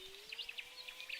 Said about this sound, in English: I've got some living birds that you can see there.